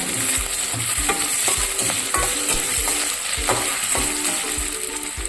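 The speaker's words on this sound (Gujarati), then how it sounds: "આ રીતે આપણી બટેકાની ચીપ્સ તળાઈ ગઈ છે" Potato chips fry in hot oil for a Gujarati fasting dish: a constant loud hiss with a quick run of rhythmic scraping and clicking from a spoon working the pan.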